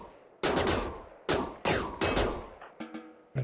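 Gunfire from colonists shooting in RimWorld, a video game: four loud, sharp reports spaced irregularly, each decaying quickly, followed by a cluster of fainter crackling shots and pops.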